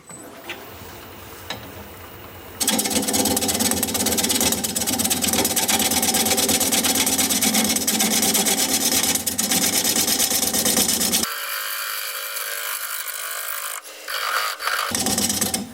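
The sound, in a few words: dull turning tool cutting wood on a lathe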